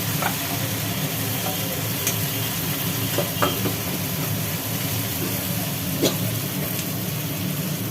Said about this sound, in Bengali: এই ভাজা মাংসটা এই কড়া থেকে কষানো মশলার ওপরে ঢেলে দেওয়া হলো